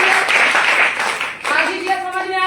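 An audience at a talk breaks into a short burst of clapping, loud and close, with a voice speaking over it as the clapping tapers.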